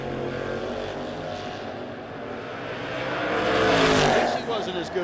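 Fox-body drag cars, an 86 Mustang and an 85 Capri, roar at a No Box 660 shootout, steady loud engine noise that swells into a harsh rising rush as they launch, with an announcer talking over it.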